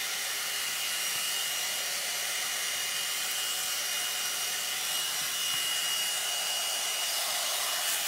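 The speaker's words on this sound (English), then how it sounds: "So, that is the blowout dryer brush." A lightweight blowout dryer brush runs continuously while drying hair, a steady close whooshing airflow hum with no talk.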